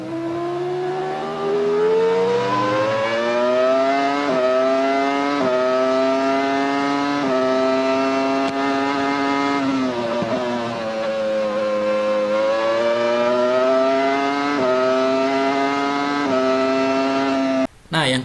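A 1998–1999 Williams Formula One car's engine screams nearby at a high pitch, its note climbing and dropping repeatedly through gear changes, loud and continuous, with a brief cut at the end.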